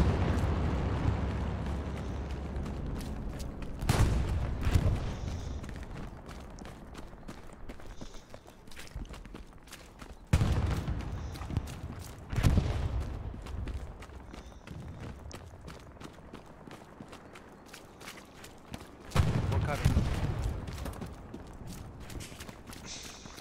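Gunfire in the World War II shooter game Hell Let Loose: a handful of loud, sharp shots spaced several seconds apart, each with a rumbling tail, over quieter background movement and footsteps, with no voices.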